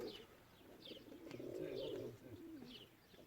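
Soft, low cooing of a pigeon, repeated murmuring calls nearby, with faint chirps from other birds in the background.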